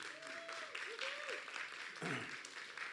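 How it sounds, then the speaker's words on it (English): Audience applause fills a 2020 Sequim Irrigation Festival kickoff auction, a steady wash of clapping sustained throughout at moderate loudness, with a thin whistle-like tone briefly riding over it. "Let's give those folks a big round of applause here"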